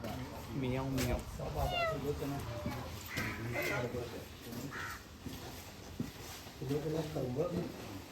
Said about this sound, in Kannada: ಬೆಕ್ಕಿನ ಸೌಂಡ್ ಮಾಡುತ್ತೆ